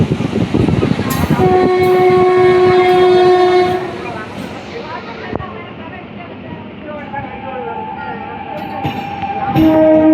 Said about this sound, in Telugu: మొత్తానికి వస్తుందండి, గట్టిగానే వస్తుంది ట్రైన్.